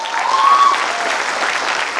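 An audience claps loudly together for about two seconds, a dense burst of applause that swells and then fades slightly.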